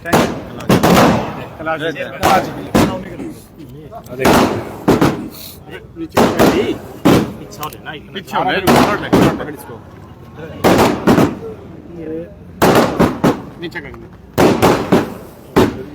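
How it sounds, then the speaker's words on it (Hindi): Firecrackers and fireworks burst in rapid, loud volleys at a BJP party office celebrating an election win in Kaithal, sharp repeated bangs close by, with people talking and cheering between them. "आतिशबाजी की जा रही"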